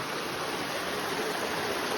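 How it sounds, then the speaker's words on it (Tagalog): Steady rushing water of a river on a nature trail to Bangka Bangka Falls, flowing continuously, a dense, even wash of sound with no voices. "Unang ilog po. Unang ilog natin ito."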